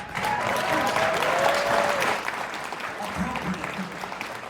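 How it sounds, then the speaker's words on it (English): A convention audience at a sci-fi fan event Q&A with a guest breaks into applause, steady clapping from many people with a brief whistle early on and faint voices mixed in as it thins out. "Totally worth an applause."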